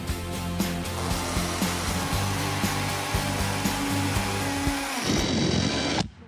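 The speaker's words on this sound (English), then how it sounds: "Drilling a wider 13mm hole could show up differences in their ultimate power." A cordless combi drill boring a 13mm hole whirs steadily at high speed for about five seconds, then winds down and stops abruptly.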